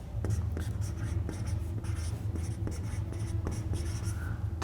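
Writing on a board in a chemistry lesson, a series of short scratchy strokes and taps in uneven rhythm over a steady low hum, with faint talk underneath.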